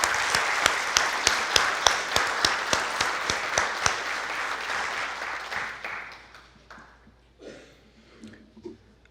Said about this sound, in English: we should give Maria, Sarah, and Marge a round of applause